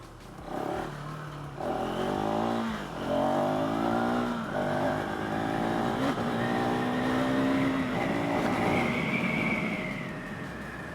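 KTM 390 SMC R single-cylinder motorcycle engine while riding, loud and close, revving up through the gears with several clear pitch drops at each shift and continuous engine drone throughout.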